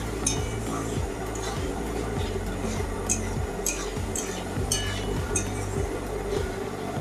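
A utensil scrapes and clinks repeatedly against a pan while paneer sabzi is mixed, with salt added, the strokes coming in a steady rhythm, close up, with no one speaking.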